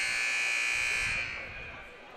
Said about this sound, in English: As the buzzer rings.